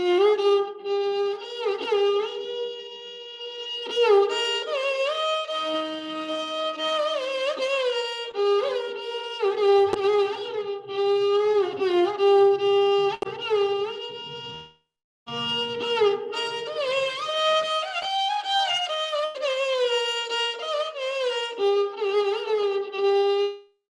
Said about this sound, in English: composition in Shankarabharanam ragam, which is the same 7 notes, might sound something like this